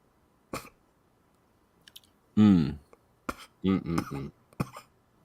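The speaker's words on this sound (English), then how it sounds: "Are you coughing?" Several harsh coughs come in short bursts, one long raspy fit followed by a couple of quicker coughs, close and fairly loud against a quiet background.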